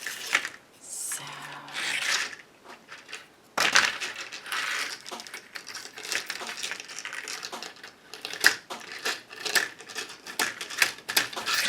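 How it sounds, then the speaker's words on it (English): Kitchen scissors snip through chicken wire in a run of sharp, crunchy metallic clips, close and uneven in rhythm, with brief pauses between bursts of cutting. "These are my good old-fashioned kitchen scissors that I use in the kitchen all the time."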